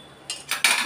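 A spoon stirs and mixes Godavari prawn fry in a pan, making a few quick scraping, clinking strokes close by that grow louder toward the end.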